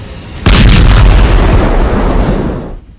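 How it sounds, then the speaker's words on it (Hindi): An M777 howitzer fires a single loud, close artillery boom that rolls out and slowly decays over about two seconds. "यूक्रेन ने M777 तोप से बमबारी तेज कर दी है।"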